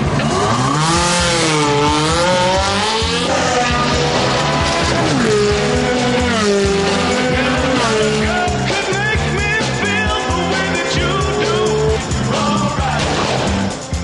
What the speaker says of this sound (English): Hit launch control for a fast getaway and wait for the call.